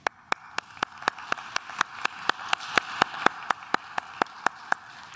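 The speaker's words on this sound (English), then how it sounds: "let me just applaud and join Dean Page in thanking all of you" A single person claps steadily at a medical school commencement for the Larner College of Medicine Class of 2021, about four even claps per second, close and moderately loud, with no voices.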